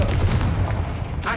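A Confringo blasting spell goes off in the Hogwarts Legacy video game, a short loud boom with a dense low rumble that fades over about a second, followed by a brief sharper crackle at the end.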